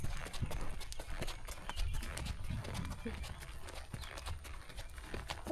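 A horse clip-clops at an easy pace beside a natural spring, its faint hoofbeats tapping on and off beneath someone talking.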